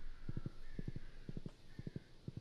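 Horse hooves gallop in the Stardew Valley video game, quick triplet clip-clop bursts repeating in an even rhythm, clear and close over faint game ambience.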